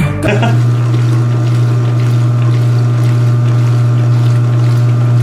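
A washing machine runs with a steady loud motor hum and continuous churning water, close up after a brief clunk at the start.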